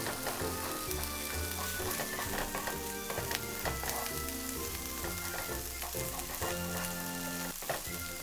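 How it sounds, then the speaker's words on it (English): An egg cracked straight into a hot oiled pan, hibachi style, sizzles steadily while it is scrambled, with scraping and stirring clicks over constant frying hiss and some background music or tonal hum. "I'm gonna crack an egg directly in the pan like I'm at a hibachi style restaurant"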